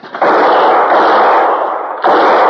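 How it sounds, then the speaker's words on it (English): Gunshots fired at a cougar at night in a western radio drama, loud close booming blasts, one long reverberating report followed by a second sharp shot near the end. "you're wasting bullets, Steve."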